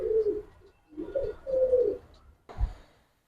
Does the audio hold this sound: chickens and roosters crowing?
no